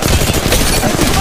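Rapid, dense gunfire in Apex Legends Mobile, a loud continuous burst of overlapping shots with no gaps, as if from an automatic weapon in close combat.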